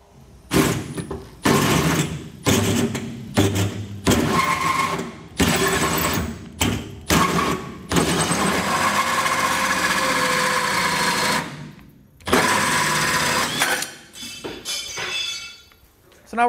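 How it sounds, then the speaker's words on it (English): A 4-inch hole saw bores through the bed of a 2012 GMC Sierra truck in repeated loud, close bursts of grinding and whirring, separated by brief pauses as the drill stops and restarts. "we're going to take a 4-inch hole saw and we're going to cut that out"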